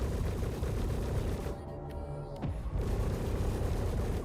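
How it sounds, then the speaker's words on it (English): Missiles rain down on the player's ship in a space combat video game in a loud, dense barrage of booms and rumbling blasts, easing briefly in the middle before the full roar returns. "They are just spamming missiles on me"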